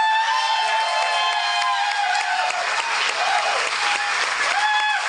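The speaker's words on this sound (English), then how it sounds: "I know you're applauding that because it's a thing that ended that lasted 5 minutes" Dense, steady audience applause fills the room at full volume, a continuous wash of clapping with faint cheering mixed in and no pause.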